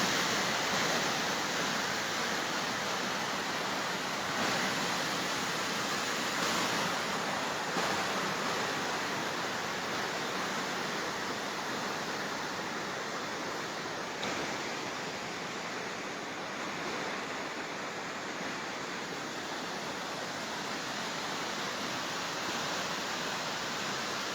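Cold mountain river near Kedarnath Temple, a steady broadband rush of flowing water that stays loud and continuous throughout with no voices.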